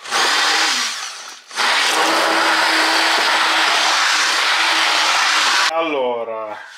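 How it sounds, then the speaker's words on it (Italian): A blender chopping a wet mixture for black summer truffle spore inoculum whirs loudly, briefly stops, then runs again in a long steady burst before cutting off, followed by a short spoken remark. "E ricominciamo a tritare"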